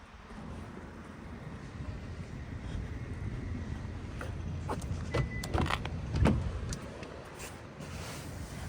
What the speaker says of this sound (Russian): Кстати, вот мой автомобиль.